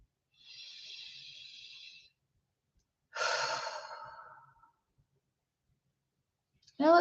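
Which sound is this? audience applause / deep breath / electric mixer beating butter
deep breath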